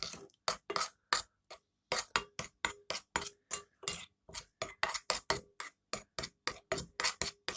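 A spoon clinks rhythmically against a bowl while blueberries are stirred with sour cream, giving about twenty crisp, evenly spaced knocks close by with brief pauses, and no talking.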